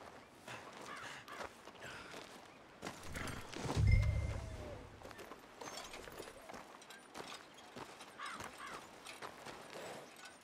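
A horse in Red Dead Redemption 2 snorts and shuffles its hooves close by, with a louder low snort midway and quiet ambient noise around it.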